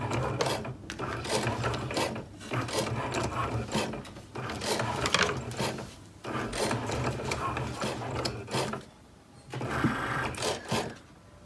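Cricut cutting machine cutting vinyl for a mug: a steady mechanical whir and clicking, stopping and starting in short runs, close and moderately quiet, with no talk.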